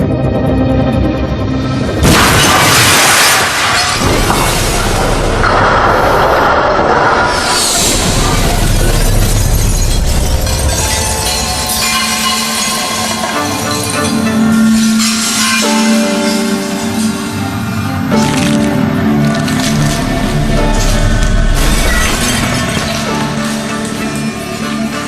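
A brick dropped from 11.5 metres smashes onto a glass window, bursting into a loud crash followed by a long spill of shattering and tinkling glass fragments that continues for many seconds.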